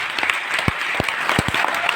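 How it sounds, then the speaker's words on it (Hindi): A seminar audience claps with raised hands in a dense, steady burst of applause, with a few heavier low thumps mixed into the crackle throughout. "एक बार हाथ ऊपर करके दिल खोल के ताली बजाइए।"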